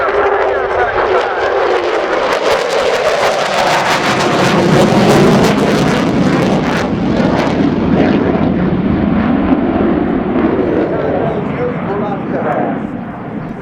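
Ukrainian Air Force Su-27P1M Flanker jet performing a flying display at RIAT 2019, a loud, continuous roaring jet engine that swells and shifts in pitch as it passes, with wind buffeting the microphone.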